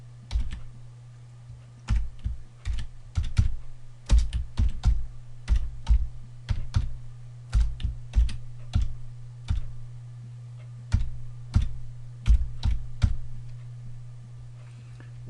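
Steady typing on a computer keyboard, with irregular bursts of key clicks over a low constant hum, close and moderately loud.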